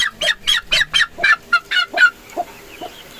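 Cross-bred young roosters from a breeder's flock crowing and honking in a rapid run of about nine loud calls, then a few fainter, sparser calls trailing off, with no talk.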